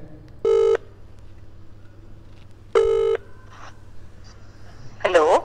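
An outgoing phone call rings out with two loud, evenly spaced ringback tones and a quiet gap between them, then a voice briefly answers at the end.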